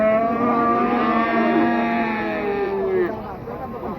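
Cattle at the Wirosari livestock market moo in long, drawn-out calls that bend in pitch, loud and close, over a background murmur of a crowd talking.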